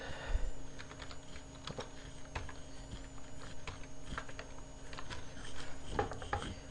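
Someone types an IP address on a computer keyboard, a quick irregular run of light key clicks, fairly close and moderately quiet, with no talking.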